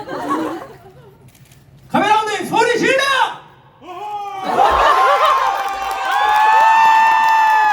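A theatre crowd at a musical's curtain call laughs and cheers in bursts, with loud shrieking cheers rising mid-way and a sustained high-pitched roar of voices closing out the moment.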